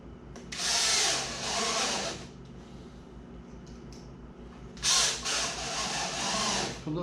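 Power drill driving screws into a wooden gate frame, two loud whirring bursts of about a second and a half each, with quieter handling noise between them.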